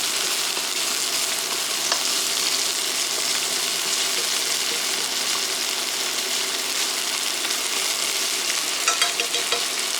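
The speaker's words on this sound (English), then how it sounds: "But for stir frying, I prefer chopsticks." Onions stir-frying in a hot pan, pushed around with chopsticks as they cook for omurice: a steady, close sizzle with faint scraping and light clicks of the chopsticks throughout, no voices.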